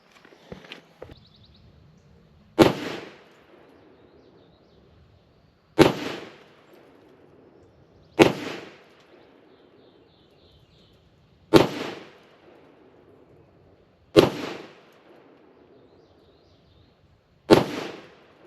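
Six loud, evenly spaced gunshots from a Rock Island M200 revolver, each a sharp crack with a short echoing tail, fired about three seconds apart with quiet between.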